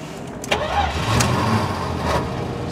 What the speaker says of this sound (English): Starts right up, just the tap of a key.